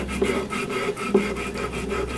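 A metal file is drawn flat across the window of a Majestic Arms Mark IV trigger housing in several rhythmic, close rasping passes, with nobody speaking.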